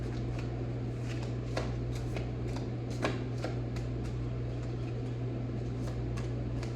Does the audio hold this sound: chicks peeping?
no